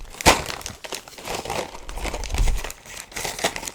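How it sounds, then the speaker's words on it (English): Close, crisp crinkling of a cracker packet's plastic wrapper, rustling in uneven bursts with a sharp crackle near the start. "let me grab some more crackers"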